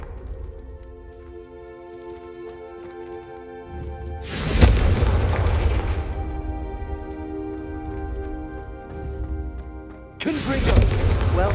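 Confringo fire spell blast in the Hogwarts Legacy video game, two loud booming impacts with crackling bursts, each decaying into a rumbling tail, over a sustained tonal musical backdrop.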